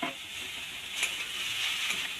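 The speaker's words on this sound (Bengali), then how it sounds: "এগুলো দিয়ে আমি কিছুক্ষণ নাড়তে থাকবো।" Chopped green chillies stirred in a hot pan for a restaurant-style egg chop, giving a soft continuous sizzle with faint scraping and a couple of light clicks, close and steady, with no talking.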